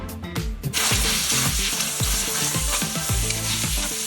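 Oxygenated cleaner is sprayed onto a fabric helmet liner, a sudden sustained airy hiss taking over after a brief start, with a repeating low pulsing beneath it, close and without speech.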